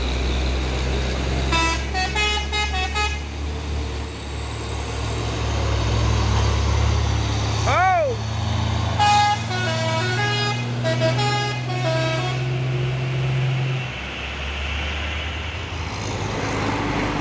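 Bus and trailer truck with telolet musical horns on a roadside at Bukit Kodok, several bursts of tuneful multi-note honking and a brief siren-like swoop over a heavy rumbling engine drone, loud and close.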